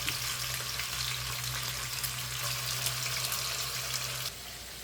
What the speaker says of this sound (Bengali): তেল গরম হয়ে গিয়েছে, আমি এখন মাংসগুলো এভাবে ছেড়ে দেব।